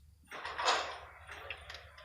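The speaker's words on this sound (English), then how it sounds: "the door of the tavern opens." A tavern door opens with a sliding, scraping rush of sound that swells and fades over about two seconds, fairly close, with a low hum underneath.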